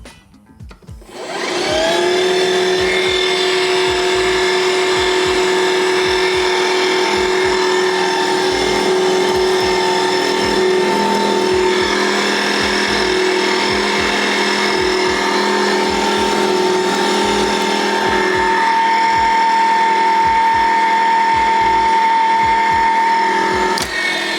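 A Milwaukee M18 FUEL cordless pipe threader running at speed 1 on 1-inch pipe: it spins up after a brief start, then holds a loud, steady whining motor drone with a rapid rhythmic ticking beneath, sustained throughout.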